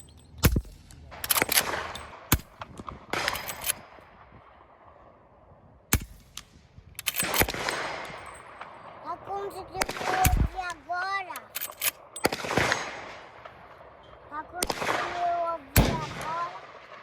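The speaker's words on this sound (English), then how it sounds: "I'll put some more footage of me shooting this gun." Shots from a Henry Big Boy X lever-action rifle ring out as sharp, fairly quiet cracks spaced several seconds apart, with handling clatter between them and some background noise.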